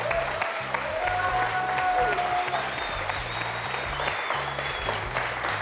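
A game-show studio audience applauds a contestant's fifth straight win, sustained, dense clapping throughout with steady loudness and a faint background murmur.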